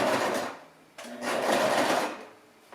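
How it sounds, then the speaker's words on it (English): A Brother sewing machine runs straight stitching through three layers of fabric for a decorative pillowcase, in two sustained, steady bursts of motor whir separated by a short pause. "I'm using that same Brother sewing machine"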